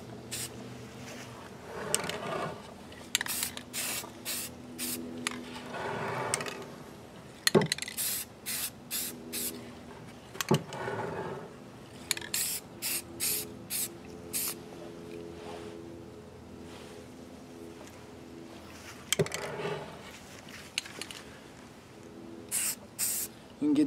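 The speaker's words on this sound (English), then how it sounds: "I will actually show you how to do the zenithal prime with another can of paint" A spray can of primer hisses in repeated short and longer bursts while a miniature model gets a zenithal prime, the spray loud and close with pauses and a few handling clicks between passes.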